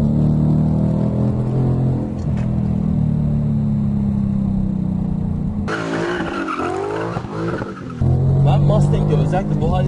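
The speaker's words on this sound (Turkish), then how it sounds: "7000 devire kadar Mustang devir çevirmeme izin veriyor." A Ford Mustang GT with a naturally aspirated engine and manual gearbox revs hard, the loud exhaust drone swelling through rising and falling pitch sweeps, with someone speaking over the engine throughout.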